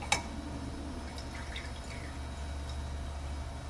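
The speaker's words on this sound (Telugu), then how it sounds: "ఇలా ఫిల్టర్ చేసుకుంటాను ఈ రసాన్ని. ఇంకా ఈ రసం దిగుతూ ఉంటుంది." Tamarind juice drips through a filter with a few faint, close drips and light trickles over a low steady background, one sharper drip standing out at the start.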